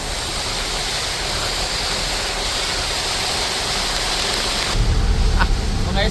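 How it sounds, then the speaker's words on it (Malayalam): Dense, steady roar of heavy rain with gusty wind in Kuttanad, Kerala, growing louder and rumbling low near the end. "നല്ല കാറ്റും മഴയാണ്"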